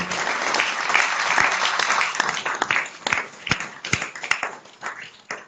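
An audience at a cycling committee's general assembly applauds the volunteers: dense, sustained clapping from a crowd that gradually thins into scattered, separate claps toward the end.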